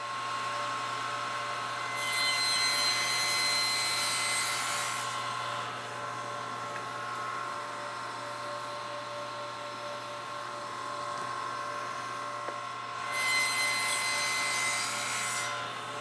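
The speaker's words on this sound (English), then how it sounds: "I'm going to make my first cut, spin it around, making sure the top is still facing me, and then make my second cut on both pieces." A saw blade cuts a wooden tenon for a Morris-style armchair in two separate passes, each a few seconds of close, loud, steady buzzing separated by a lower running drone.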